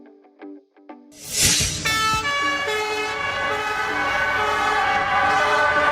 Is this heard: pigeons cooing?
no